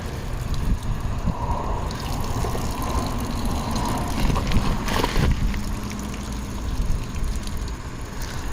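Water steadily draining out of a 2003 Cadillac with a 3.2L engine, a continuous trickling wash close by with no talk over it.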